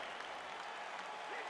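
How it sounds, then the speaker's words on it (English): Virtual arena crowd in the UFC 4 fighting video game applauding and cheering as a bout gets underway, a steady dense wash of clapping and crowd noise throughout, moderately loud with no clear voices above it. "crowd getting excited as this fight gets underway"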